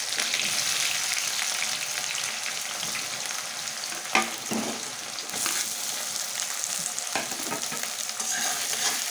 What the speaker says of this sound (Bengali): এখন দিয়ে দিচ্ছি পেঁয়াজ।